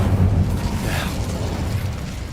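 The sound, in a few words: Incendio fire spell explosion in Hogwarts Legacy video game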